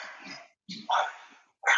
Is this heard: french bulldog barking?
yes